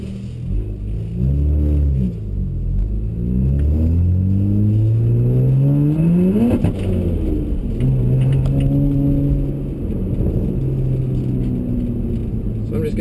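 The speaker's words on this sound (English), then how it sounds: "So I'm just going to take it around at different RPMs so we can see what it sounds like at each RPM" A BMW 135i fitted with a muffler-less HPF prototype exhaust drives at varying RPMs, its deep droning engine note rising and falling through several pulls, loud and steady from inside the car, with someone talking over it at times.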